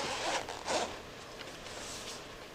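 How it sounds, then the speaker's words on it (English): Zipper being pulled open around the small carrying case of a professional pyrography wood burning pen and soldering set, two quick rasping zips close by, then a quieter steady rasp as the zip continues around the case. "It comes in this here little case and it has a zipper around it"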